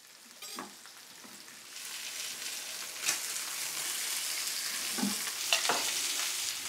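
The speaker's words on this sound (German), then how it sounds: "Einfach salzen, pfeffern und ab in die Pfanne." Seasoned salmon trout fillets sizzle steadily in a hot frying pan, a continuous crackling hiss with a few louder pops and spits, close by and alone with no talk.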